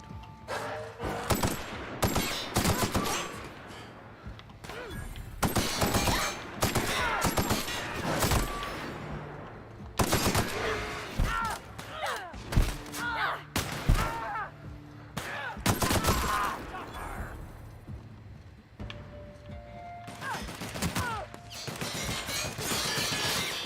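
Bursts of gunfire in The Outer Worlds ring out in repeated close volleys across the whole stretch, loud sharp cracks spaced irregularly with brief gaps, mixed with game effects and occasional talk.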